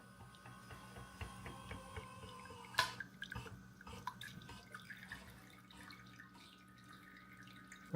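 Jian Yi V3 automated lever espresso machine purging water, a soft steady trickle and dripping with a sharper clack partway through, close and moderately quiet with no talk.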